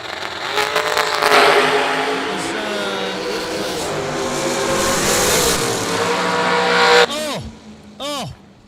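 Drag racing cars at the IHRA World Finals roar down the strip with a loud, sustained engine howl. Two sharp sweeping passes follow near the end, and a commentator talks over the noise.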